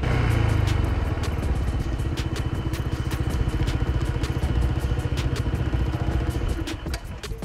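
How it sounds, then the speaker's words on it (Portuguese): A Honda PCX 160 scooter idles steadily up close at a stop with a throbbing, even engine note, which then tapers near the end as the idle-stop system shuts the motor down. "assim que você parar em um pare, num semáforo, e deixar de acelerar a moto por 3 segundos, o motor dela irá entrar em repouso"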